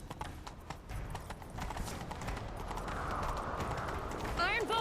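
Rapid hoofbeats of a galloping horse in The Witcher 3 on PS5 build steadily in loudness, ending with a horse's whinny, with some voices mixed in.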